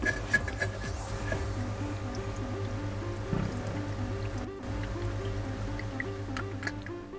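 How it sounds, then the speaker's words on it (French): Coolant being poured into a car's cooling circuit while the radiator hose is squeezed, with steady gurgling, dripping and bubbling as trapped air escapes, close and continuous over a low running hum. "pendant qu'on remplit, effectivement, il est bien de pincer un peu les durites, histoire de faire évacuer les bulles d'air"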